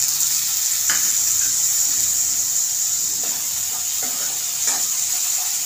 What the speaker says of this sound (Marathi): कांदा चांगला मऊ होईपर्यंत खरपूस असा भाजून घ्यायचा आहे